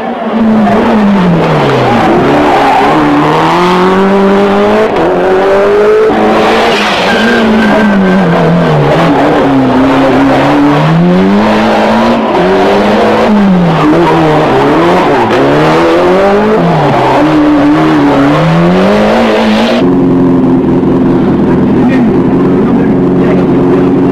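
Ford and Toyota rally cars at the 1994 Rallye Grasse Alpin, engines loud and close, revving up and down through repeated gear changes before the tone shifts abruptly near the end.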